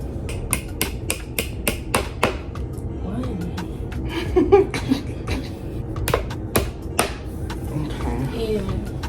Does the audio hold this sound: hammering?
yes